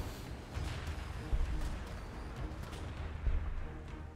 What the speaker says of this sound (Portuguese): eu vou atirar aqui